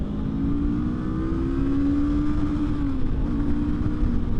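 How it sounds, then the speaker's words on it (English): Honda SCL500 motorcycle engine held at the rev limiter, a steady high-pitched drone with a faint, subtle stutter, loud and close with no talk over it. "There's what the rev limiter sounds like. Pretty subtle."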